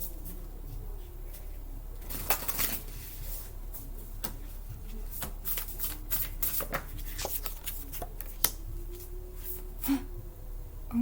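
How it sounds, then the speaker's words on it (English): Tarot cards are shuffled close by in a quiet room, a series of soft riffles, slides and sharp card snaps scattered irregularly over several seconds. "I gotta shuffle down here because I'm out of room."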